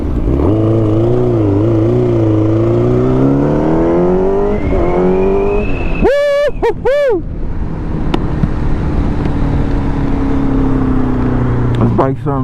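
A powerful motorcycle engine roars and climbs in pitch as it accelerates on the road, loud and close, with wind noise and a voice talking over it.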